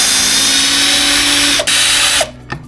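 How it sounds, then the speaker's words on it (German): A cordless drill-driver runs loud and close in a cluttered workshop, a steady high whine for about two seconds, briefly dipping once before stopping, followed by a faint click. "Oh, Akkuschrauber."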